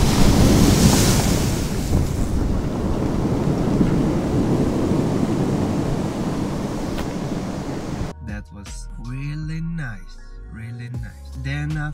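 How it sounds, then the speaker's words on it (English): Ocean surf rolls and crashes on the rocky coast below the Anaga mountains of Tenerife, a loud, broad wash with wind noise for about eight seconds before a person starts talking over it. "ocean gives you that nice sound"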